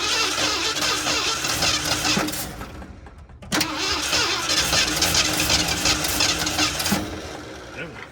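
A Ford F350 truck with Duraspark ignition, abandoned for 22 years, cranking: loud, close, rhythmic starter churning, a brief pause near the middle, then more steady cranking.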